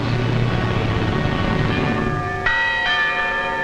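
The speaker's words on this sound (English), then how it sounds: "Once more, the people of Britain heard their church bells ring." Church bells in Britain ring out with resonant, overlapping tones, new strikes joining partway through over a continuous low rumble.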